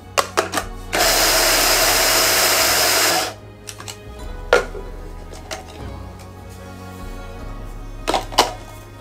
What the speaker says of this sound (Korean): 준비한 백국, 황국, 그리고 드라이스트를 그라인더에 넣어